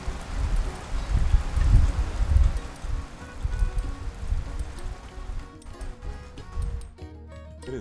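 Heavy rain pours down in the Sea of Stars video game, a dense, rushing hiss with low rumbling swells early on that thins out and quiets toward the end.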